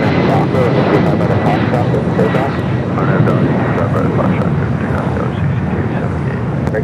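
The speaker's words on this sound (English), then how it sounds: "Flight 884 coming in from Hong Kong on this 777 at 300 yards." A Boeing 777 arriving from Hong Kong roars in loud and close on approach, a broad sustained jet rumble with wind buffeting, while a person talks over it throughout.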